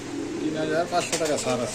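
Pigeons coo briefly nearby, soft rolling calls mixed under someone speaking.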